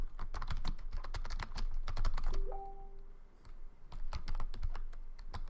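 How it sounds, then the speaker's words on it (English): Computer keyboard typing in rapid irregular clicks, close and clear, with a short pause midway before the keystrokes resume. "Oh, I can type."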